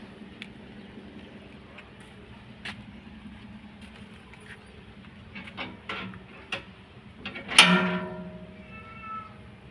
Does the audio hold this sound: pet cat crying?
yes